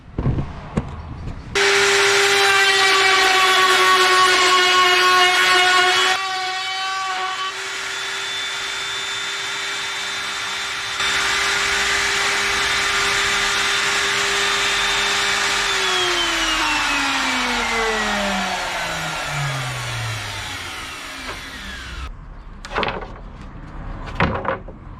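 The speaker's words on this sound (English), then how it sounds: "I'll take one very quick bit of video of routing the new handrail" A router cuts along a new wooden handrail for a boat's cabin top, a loud steady whine with strong harmonics that drops to a lower tone midway, then spins down in a falling pitch, with a few knocks at the end.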